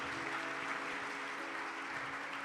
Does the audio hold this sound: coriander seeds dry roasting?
no